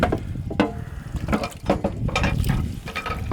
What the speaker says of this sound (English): It's fresh water, constantly fresh, very hot water running over it.